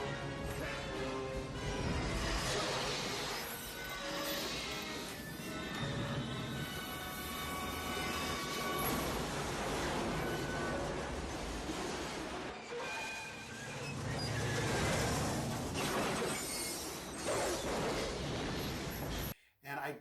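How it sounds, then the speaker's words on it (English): In a movie scene from The Fugitive, a train crashes into a bus: a loud rumbling rush of rail cars with heavy smashing impacts and surges, voices mixed into the chaos, ending in a sudden cutoff. "my favorite scene is the train crashing bus scene"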